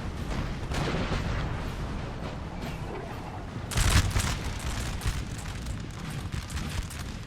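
Artillery firing canister on a Napoleonic Total War 3 battlefield: a steady rumble of distant musketry and cannon, broken by one louder boom a little past the midpoint.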